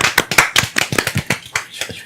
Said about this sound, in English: It's a golf clap.